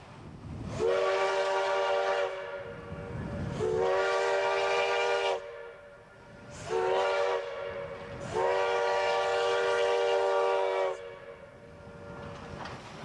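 Steam locomotive 1630 at the Illinois Railway Museum sounds its whistle in four long, loud blasts, two shorter and two drawn out, over a low rumbling chuff of the running engine.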